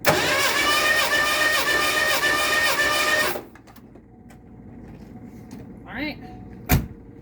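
A 1986 Ford 302 V8 cranks loud and close for about three seconds with a rapid, rhythmic starter chug during a compression test, then stops. Faint clicks and a short voice follow, and a sharp knock comes at the end.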